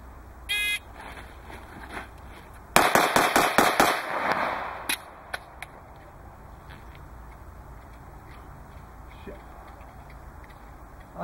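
A rapid burst of gunshots on a shooting competition stage, loud sharp cracks fired in quick succession after a start buzzer, then a few scattered shots and quiet.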